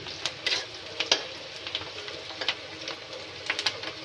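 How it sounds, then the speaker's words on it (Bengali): Chopped onions sizzle and crackle steadily in hot oil for a Bengali fish kaliya, with small pops and stirring scrapes scattered through the frying. "এই যে তেলে পেঁয়াজ দিয়েছি, পেঁয়াজটা একটু লাল লাল হচ্ছে।"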